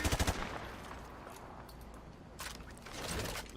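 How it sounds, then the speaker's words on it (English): Rapid video game gunfire shooting a target through wood, a quick burst of shots opening the moment, then quieter ambience and a second rattling volley toward the end. "Shoot a target through the wood"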